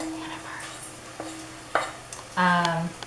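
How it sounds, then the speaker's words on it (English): Sweet corn pudding for Vietnamese che bap is stirred in a pot, with scattered scrapes and taps of a utensil against the pot and a short louder clatter near the end over a faint background hum. "So now I'm stirring it all up."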